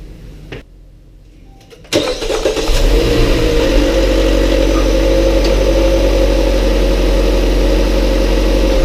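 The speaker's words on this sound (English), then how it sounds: "I'm just going to turn the engine on for 10 seconds" After a quiet moment and a few clicks, the 2.4L engine of a 2016 Jeep Cherokee starts and settles into a steady, loud idle that continues to the end.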